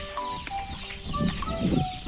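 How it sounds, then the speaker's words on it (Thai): Backyard house chickens squabble after their rice runs out, a jumble of close clucks and sharp squawks overlapping in quick, irregular bursts, with louder agitated calls toward the end. "ไก่ก็ทะเลาะกันละข้าวหมดแล้ว"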